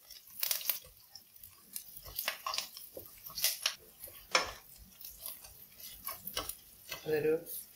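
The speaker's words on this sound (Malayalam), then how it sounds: "അതൊരു അല്പം ഗോൾഡൻ ബ്രൗൺ ആകുന്നവരെ നമുക്ക് ഇളക്കാം." Shallots and curry leaves, with mustard seeds, fry in coconut oil while being stirred, giving a quiet sizzle broken by frequent sharp spoon clicks and scrapes in an uneven rhythm.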